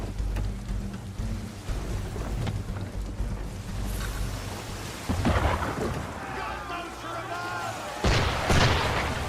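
Ship cannon fire at sea in Assassin's Creed 3, with several heavy booming blasts that grow louder near the end over a steady rumbling, stormy background.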